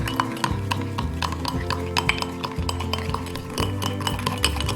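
A spoon stirs banana mug cake batter inside a mug after vanilla sugar is added, making a steady run of quick, close ceramic clinks and scrapes over a low background hum.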